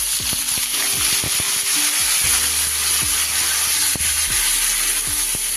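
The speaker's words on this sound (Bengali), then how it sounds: "আলুগুলো এইভাবে একটু ভাজা হয়ে গেলে এবার আমি এর উপরে পেঁয়াজকলি আর বেগুনটা দিয়ে দিই" Spring onion stalks and eggplant sizzle and fry in a pan with potatoes, a steady loud hiss with occasional scraping stirs and clinks throughout.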